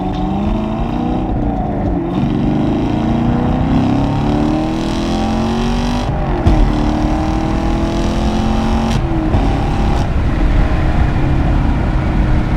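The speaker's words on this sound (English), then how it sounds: "see if it changes the pitch of the exhaust a little bit" A 2017 Chevrolet Camaro SS 1LE engine revs loudly and continuously in track mode, its exhaust note rising and falling in repeated sweeps, close by and dominating the whole recording.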